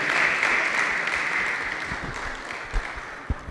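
A crowd at a Bowen University town hall meeting applauds the Vice Chancellor, a dense wash of clapping that gradually fades, with a few louder thumps near the end.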